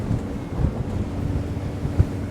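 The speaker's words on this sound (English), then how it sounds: "A little bit of wind over the decks here." Wind buffets the deck of an Azimut S6 Sport Fly motor yacht at speed, a low, continuous rumbling roar with gusty swells and a brief thump, no voices over it.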